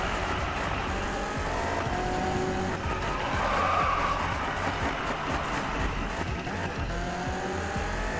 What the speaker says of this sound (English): you need a powerful car that can drift